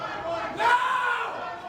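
Wrestling arena crowd at a triple threat tag-team match swells into a loud cheering roar midway, then holds a sustained, even din of massed voices.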